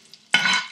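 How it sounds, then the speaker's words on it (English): Ingredients for chicken dum biryani hit hot oil in a stir-fry pan, a short quiet pause giving way to a sudden, loud, steady crackling sizzle that fades slightly at the end. "you see that they have begun sizzling"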